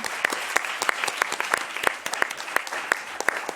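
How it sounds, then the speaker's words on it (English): Audience applause at a roundtable event on democracy and climate in Brussels, a steady burst of clapping from a room of listeners with a few sharper close claps standing out. "So very huge clap for them."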